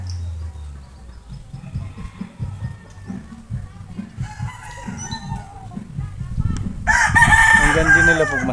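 Backyard pet chickens clucking softly nearby, then a rooster lets out a loud, close crow near the end, with a voice talking intermittently over the birds.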